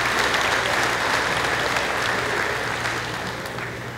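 Crowd in arena stands applauding workers at a livestock Sale of Champions event; sustained, dense clapping that stays loud and steady throughout, tapering only slightly at the close.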